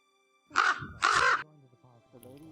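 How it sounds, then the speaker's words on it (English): A bird calls outside, two loud harsh caws in quick succession like a crow, followed by quieter chatter and a brief squawk at the end. "What is that noise? I think that was a bird."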